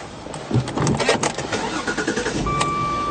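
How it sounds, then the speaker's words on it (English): A Jaguar S-Type sedan from the early 2000s with about 100,000 km is cranked and starts, the engine catching and settling into a steady close idle with a whine on top. "Let's just start the car."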